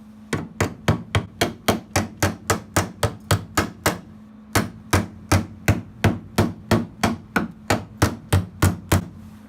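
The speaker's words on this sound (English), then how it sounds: "Now I'm going to hit it with the body hammers again and try to get the shape fit up" A body hammer strikes sheet metal on a VW Beetle rear quarter panel in a fast, steady rhythm, dozens of sharp ringing blows close up, with a brief pause midway before the hammering resumes.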